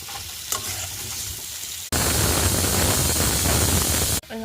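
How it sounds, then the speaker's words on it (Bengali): Potatoes frying in a pan for a jackfruit curry: a steady, loud sizzle that jumps up sharply partway through, with faint stirring before it, close by and with no talk. "এখন আমি আলুটি লাল লাল করে ভাজিলাম।"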